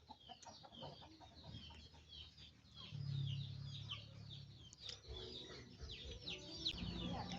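Chickens cluck and chatter continuously at a rural home garden, with several birds calling over one another at moderate distance, steady and fairly quiet throughout.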